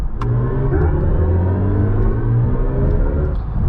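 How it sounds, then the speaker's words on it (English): A steady, loud electric car motor hum from a 2024 BMW i5 M60 rising in pitch as it accelerates on boost, with a continuous rumble throughout and no talking. "if you press this boost paddle here, it plays another fun sound"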